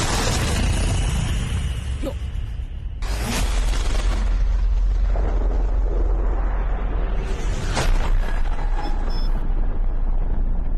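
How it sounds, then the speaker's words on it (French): Explosions from the anime Bleach: loud, rumbling blasts that roar continuously, with a sharp new burst of noise around the three-second mark and later crackling surges. "Dans Bleach, tout explose, les bâtiments, les montagnes, tout pète."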